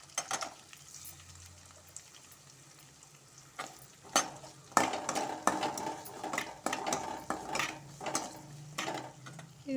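Garlic and onion sautéing in a pan for a Tamil puli kuzhambu, a soft sizzle under repeated scraping and clinking of a spoon against the pan, close and fairly quiet.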